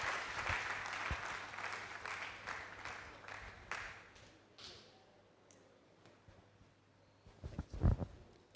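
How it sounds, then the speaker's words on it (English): Clapping from a lecture audience at a communication talk, strongest at the start and fading out by about five seconds, then quiet room sound with a few sharp knocks near the end. "he deserves a better round of applause"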